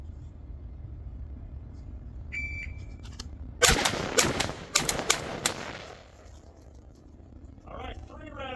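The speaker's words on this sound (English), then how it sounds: "On the middle circles, 2 rounds in each circle." Several sharp rifle shots fired at circle targets on a shooting range, a quick burst of about five cracks in pairs, loud against a steady low background hum.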